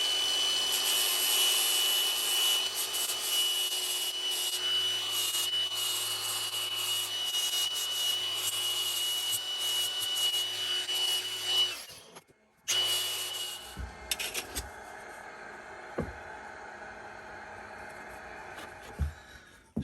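Steady, close abrasive rubbing of 40 grit sandpaper on a vintage Tyzack dovetail saw, continuous for most of the stretch, then a brief pause and lighter, scattered scraping and handling noises.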